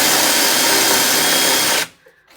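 A power drill drilling into a brick wall whines loudly and steadily up close, then cuts off abruptly, leaving near silence.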